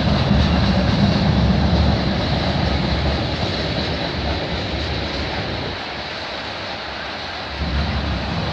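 A CN freight train, number 397 with distributed power units, passes close by in Milton, Ontario, a dense steady roar of wheels and engines that eases slightly partway through before swelling again.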